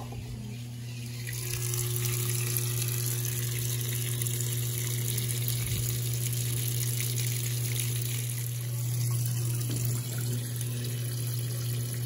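A Mondial Graphite washing machine filling with water during a wash cycle, a steady rushing inflow with a constant low motor or pump hum, heard close and alone for about twelve seconds.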